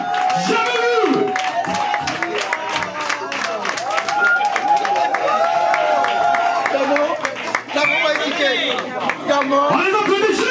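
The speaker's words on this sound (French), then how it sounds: "On les applaudit juste pour son arrivée ici." Party guests at Bruno's 50th birthday celebration clap for his arrival, dense steady applause mixed with crowd chatter and a host talking over it throughout.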